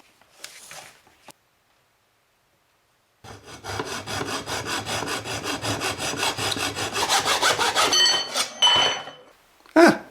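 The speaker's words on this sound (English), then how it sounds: "And I'm just going to use a hacksaw." Hacksaw cutting an aluminium antenna tube to length for a 6-meter Yagi director element; a brief scrape, a pause, then about five seconds of steady rapid back-and-forth rasping strokes, close and loud, ending in a final clatter.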